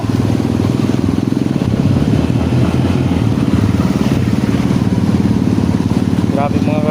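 Motorcycle engines running and passing along a deeply flooded road in Calumpit, Bulacan, a loud steady droning rumble close by throughout, with someone talking over it.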